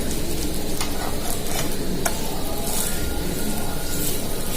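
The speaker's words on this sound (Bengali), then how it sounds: "এটা খুব ভালো করে উল্টে পাল্টে ভেজে নিতে হবে" Oats-based snack sizzles and fries steadily in a hot pan, a continuous crackling hiss with occasional sharper pops and no talking.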